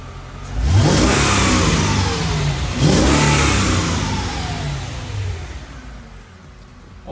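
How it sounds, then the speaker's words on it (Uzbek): A Mercedes-Benz W211 E-Class with its stock exhaust revs hard twice in close succession, each rev rising to a loud roar and then falling back toward a rumbling idle, heard up close with no talking. "endi bu mashinani bitta ovozini eshitib ko'ramiz."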